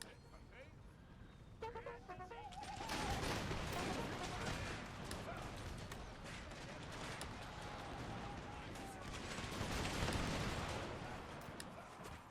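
Massed musket volleys and artillery fire roar in Empire: Total War, played with the Imperial Destroyer mod as Prussia. The crackling barrage is dense and continuous, swelling loudest around the start and again near the end, with a voice over it.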